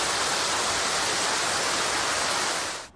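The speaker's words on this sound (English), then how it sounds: "The swelling Murray River encroaching on border towns, this levee at Echuca unable to hold the water back." Murray River floodwater at Echuca, swollen past the 1993 level, pouring over a failing levee: a steady, dense, loud rush of water filling the whole stretch before cutting off at the end.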